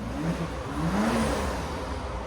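A 2025 BMW X5 xDrive50e hybrid with a 3.0L inline-six and Flowmaster 80 Series exhaust accelerates in sport mode, its engine note rising in a smooth sweep then easing, moderately loud and fairly close, with no talk.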